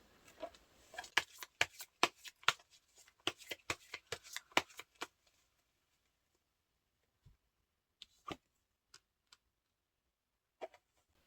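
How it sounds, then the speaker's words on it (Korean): Tarot cards are shuffled in quick, crisp bursts of riffling and flicking that grow sparse after about five seconds, with a few isolated card taps trailing off in an otherwise quiet room. "조언 카드 한 장 뽑아볼게요"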